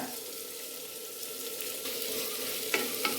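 Tomatoes and vegetables sizzle softly in a pan for an eggplant and potato chutney, with a couple of sharp stirring scrapes near the end; quiet and steady, no speech.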